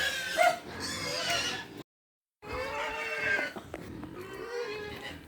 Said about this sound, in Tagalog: Kawawa naman ang mga baboy. Nagutom na.